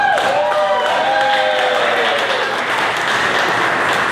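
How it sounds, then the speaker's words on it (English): Loud, continuous applause from a crowd at a Corvette club awards celebration, with a brief whistle or cheer near the start. "Give yourselves a round of applause."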